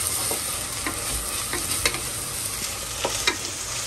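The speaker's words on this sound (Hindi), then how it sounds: "आप इसमें डालेंगे हम 1 टेबल स्पून अदरक लहसुन का पेस्ट, बिस्मिल्लाह। पेस्ट डालकर भून लेंगे।" Ginger garlic paste fries with onions in a pan, a steady close sizzle broken by scattered spoon-stirring clicks and scrapes, with no talking.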